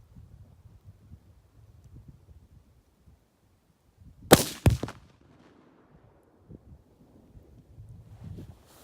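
Outdoors, a rifle shot sets off one pound of Tannerite packed in a round hay bale, giving two sharp, loud cracks in quick succession that stand out against faint wind and low background rumble.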